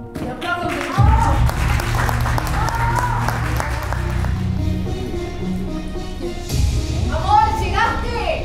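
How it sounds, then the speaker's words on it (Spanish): Audience applause and scattered clapping rise in a theater during a stage play, a loud sustained burst of many hands that runs under actors' voices and shouts throughout. "Y aplausos de nuevo."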